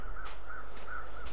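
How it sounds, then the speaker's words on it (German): Crows caw in The Long Dark survival video game, a repeated rhythm of harsh calls about every quarter second, heard over a steady loud background hum. "Auch hier oben wieder die Vögel und da drunter."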